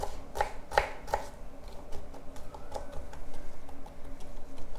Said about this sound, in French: Moitié, le chapeau, et ensuite j'émince